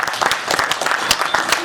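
An audience at a business seminar in Mathura applauds, with dense, continuous clapping from many hands that stays loud and even for the whole moment.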